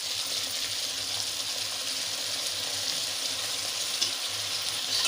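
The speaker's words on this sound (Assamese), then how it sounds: "এতিয়া আপুনি মছলাখিনি বৰ সুন্দৰকৈ আপুনি ভাজিব লাগিব।" Ground spices frying in oil for a fish curry sizzle steadily up close, a continuous soft crackle with faint stirring, no voices.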